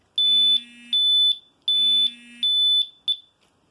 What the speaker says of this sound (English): So its way of telling you that there's something going on is to beep and flash.